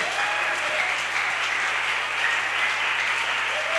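A congregation at a French-language church service applauds for the Lord, a continuous, even roar of many hands clapping at full volume, with a faint low hum beneath and no voices.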